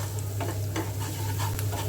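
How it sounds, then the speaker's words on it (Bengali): Ground turmeric, coriander, chili powder and salt fry in oil for a shrimp curry, giving a close, even sizzle with quick scraping stirs of a spoon against the pan. "সবগুলো মশলা তেলের সাথে কিছুক্ষণ ভাজবো"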